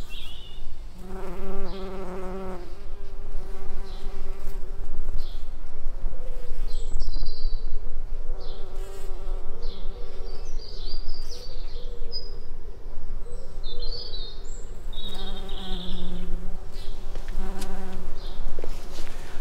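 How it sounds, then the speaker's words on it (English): Bumblebees and honeybees buzz around flowers in an English garden, a continuous near drone with individual bees passing close and fading, and faint birdsong behind. "I mustn't touch it really because it's full of bees, bumblebees and honeybees"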